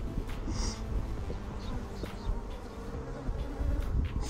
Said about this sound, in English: all the bees are out here